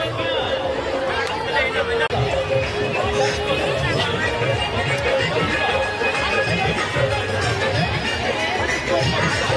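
Dense crowd bustle around the shops at the Dhanuyatra fair, a steady loud babble of many voices with continuous chatter close by and no pauses.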